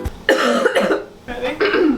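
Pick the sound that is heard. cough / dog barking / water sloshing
cough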